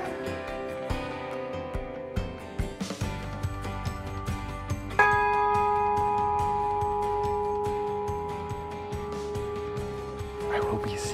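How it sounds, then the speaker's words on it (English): A new church bell in Prague is struck several times. Its metallic tones ring out, and one strong strike leaves a long, slowly fading harmonic hum. "do you want to ring the bell one more time?"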